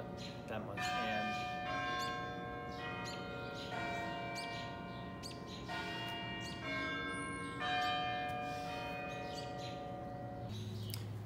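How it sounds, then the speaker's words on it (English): A campus clock tower bell at Gilman Hall rings out at 7 p.m., with steady repeated resonant strikes whose long ringing tones overlap continuously, fairly loud and nearby, with birds chirping faintly in the background. "7 p.m. bell. That goes up on Gilman Hall."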